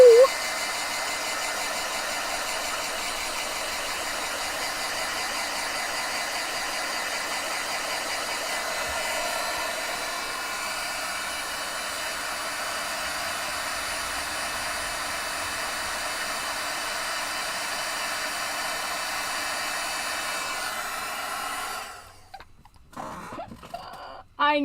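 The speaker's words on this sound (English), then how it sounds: "I gotta turn on my heat tool." A crafting heat tool blows hot air in a steady, loud whirring drone for about twenty seconds, then shuts off, leaving a few brief handling sounds.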